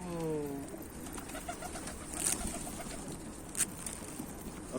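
Pigeons coo softly at the start, a low rolling call, then quiet rustling with a couple of faint bird chirps nearby.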